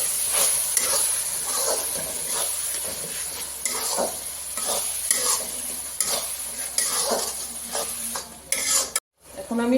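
Chickpea masala with kasuri methi is stirred in a pan, bringing repeated scraping and clinking strokes of a utensil against metal over a continuous close sizzle, with a brief dropout near the end and no speech.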